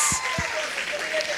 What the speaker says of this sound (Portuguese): Uma salva de palmas para as meninas.